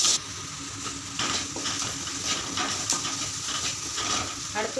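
A salted masala mixture sautés in a pan, giving a continuous sizzle broken by repeated scraping and stirring strokes at a close, moderate level.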